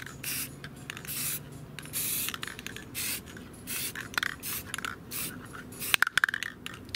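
A spray paint can hisses in repeated bursts of varied length while coating a Logitech G402 gaming mouse, close and steady, with short gaps and a few clicks near the end.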